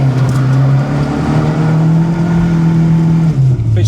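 Engine of a Rover Classic Mini Sidewalk held on throttle, a loud steady drone close by that dips slightly near the end, with road noise underneath and no talking.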